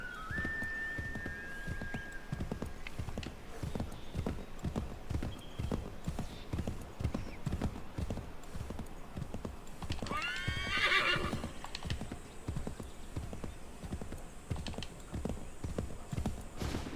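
Horse hooves clip-clop steadily at a gallop in the Assassin's Creed 3 video game, continuous and fairly close, with a whinny around the middle and a brief whistle-like tone near the start.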